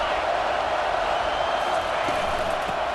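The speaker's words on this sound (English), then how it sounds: "This crowd bringing the energy and noise early." Crowd noise fills a college football stadium in the EA Sports College Football 25 video game, a dense steady roar under commentary.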